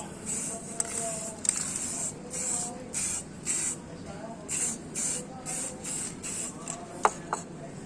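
Short bursts of spray paint are applied to an old Garrison belt, a rhythmic series of close hissing sprays with brief pauses between them, and some faint talking in the background.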